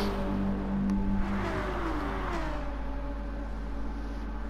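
BTCC touring cars race uphill, an engine accelerating with a rising tone and rapid gear changes over a steady low drone of nearby machinery, moderately loud and continuous.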